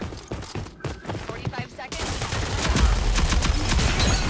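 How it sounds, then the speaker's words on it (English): Bursts of rapid gunfire in a video game fill the clip, with shots closely spaced and loud throughout, growing denser in the second half, while players talk over the shooting. "This man shotgunned me."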